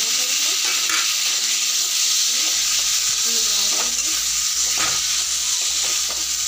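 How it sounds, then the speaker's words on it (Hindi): Two chopped tomatoes drop into a hot pan of chole masala, raising a steady, close, loud sizzle and hiss that runs throughout, with occasional soft knocks of a spoon. "इसमें टमाटर ऐड कर देंगे, जो कि 2 टमाटर हमने काट के रखा हुआ है।"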